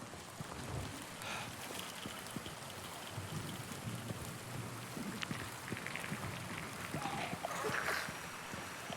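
Rain falls steadily in Silent Hill 2, a soft, continuous patter with scattered drops and faint rumbles, heard fairly quietly throughout.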